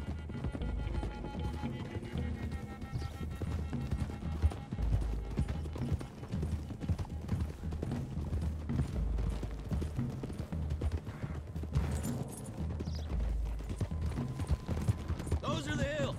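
Horse hooves gallop continuously in Red Dead Redemption 2, a steady rhythmic clip-clop from several riders running beneath voices talking and background game sound.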